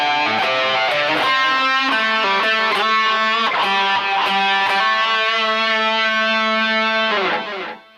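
Distorted electric guitar plays a solo section in A, with quick picked notes and repeated phrases that settle into a sustained held note before fading out, with no voice over it.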